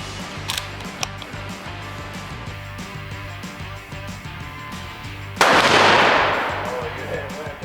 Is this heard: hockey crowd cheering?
no